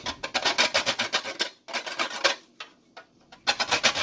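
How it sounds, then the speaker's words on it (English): Whole nutmeg rasps against a grater over flour in quick rhythmic strokes, loud and close, in bursts separated by short pauses, with no talk. "here I'm just going to grate this nutmeg into this flour like so"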